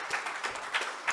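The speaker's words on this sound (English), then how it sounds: "Let's applause to him" Brief burst of audience applause at a blockchain development meetup, a steady patter of many hands clapping at moderate level with no talk over it.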